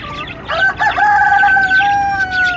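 A desi rooster on a rooftop chicken farm crows loudly and close, a drawn-out strained call, with other hens clucking softly in the background.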